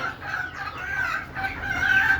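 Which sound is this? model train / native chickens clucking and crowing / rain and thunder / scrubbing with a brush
native chickens clucking and crowing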